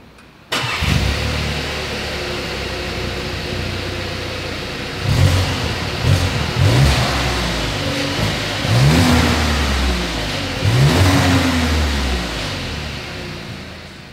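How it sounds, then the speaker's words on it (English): 2024 Volkswagen Tiguan exhaust: engine starts with a sharp rise, then settles into a steady idle broken by three rising revs that sweep up and fall back, close and fairly loud, no talking. "As always, here is that exhaust clip."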